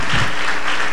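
A church audience applauds, a thick, steady wash of clapping from many hands, loud and continuous throughout.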